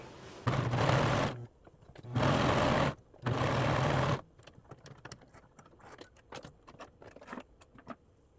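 A sewing machine hems a hood in three loud, steady whirring bursts separated by short pauses, followed by quieter clicks and fabric handling.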